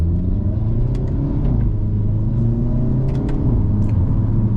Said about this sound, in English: let's set off now in the Elantra N